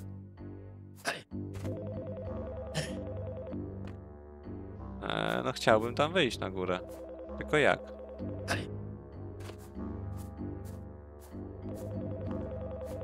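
A telephone rings repeatedly from a booth in Priest Simulator, a warbling electronic ring pulsing in regular bursts while someone talks over part of it.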